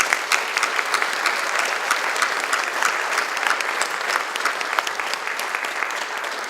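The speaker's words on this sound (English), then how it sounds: "And how about a round of applause for them?" A hall audience applauds graduating students at a college business dean's list and prize-giving ceremony, dense even clapping that holds steady throughout with no voices on top.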